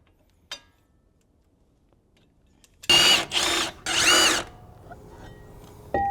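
A power tool such as an impact driver loosens front brake caliper bolts on a 2015-2024 Porsche Macan S, firing in three loud, close bursts after a quiet stretch, followed by a brief whir at the end.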